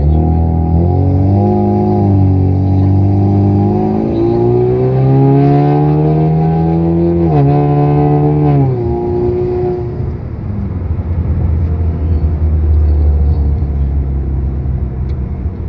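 A 2017 Chevrolet Camaro with a tuned turbo four-cylinder engine revs under throttle on the street. A loud, close drone climbs, dips and climbs again, then settles into a lower rumble.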